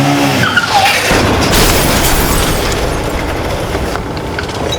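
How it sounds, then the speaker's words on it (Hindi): Road accident effect for a crime drama: a brief vehicle skid squeal opens onto a loud, sustained noisy roar of impact and rushing vehicle noise, close and harsh, with no voices. "पहले मैंने एक्सीडेंट की आवाज सुनी"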